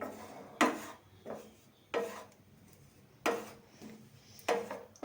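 Gram flour dry-roasted over a low flame in a small kadai, with no ghee: a spatula scrapes across the pan in soft, evenly spaced strokes, about four or five close rasps.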